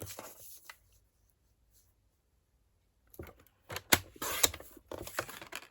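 Paper card stock trimmed to size for a stamped faux vintage card front, heard as a short burst of crisp slicing and rustling, then a pause before a louder run of cutting strokes and paper handling close by.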